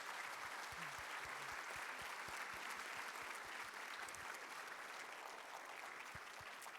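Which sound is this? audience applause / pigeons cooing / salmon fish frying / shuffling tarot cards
audience applause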